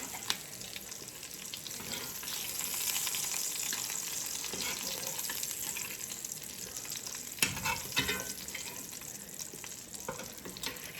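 Bacon frying in hot grease in a skillet, a dense continuous sizzle with crackling pops and splatters, a few sharper spits and scrapes of a big spoon partway through, close and fairly quiet.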